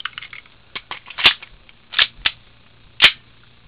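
WE Hi-Capa 5.1 airsoft pistol on green gas firing short full-auto bursts while the trigger is held, a handful of sharp close pops separated by brief gaps as the gas runs low, with faint mechanical clicks between.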